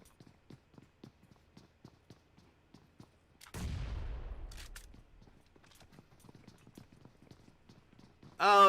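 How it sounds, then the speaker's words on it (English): A grenade blast in a battle royale video game match lands as one loud, low rumbling boom that decays over about a second, set among quick repeated footstep-like taps and faint game sounds. "I hear the nades coming"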